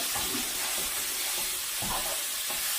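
Ground sirloin gets stirred with a spatula in a hot pan, a dense, loud sizzle filling the scene with a few soft scrapes and pushes of the meat breaking through.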